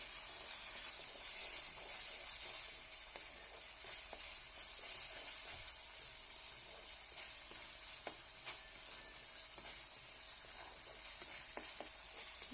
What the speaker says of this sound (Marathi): आता ते घालून आपण छान भाजी परतून घेऊ